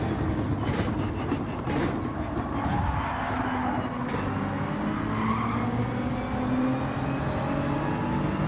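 Race cars in Gran Turismo 7 on PS5 roar past in a dense, continuous engine drone with tyre noise and faint skids, loud and steady throughout, no speech.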